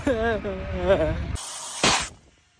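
A voice speaks, then a short, sharp burst of spray hisses loudly onto a tire rim being cleaned and quickly fades away.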